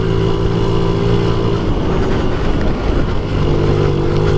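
A 1993 Honda Z50R minibike engine buzzes loudly and steadily as it climbs a hill under a rider of about 200 pounds, a close, continuous revving drone with wind noise and no talk.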